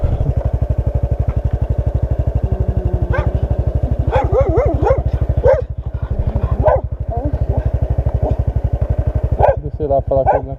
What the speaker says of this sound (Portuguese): esse cachorro